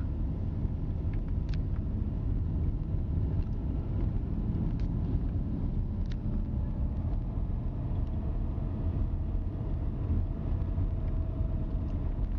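Continuous low rumbling buffeting of wind across the microphone, loud and steady throughout, with a faint engine hum underneath.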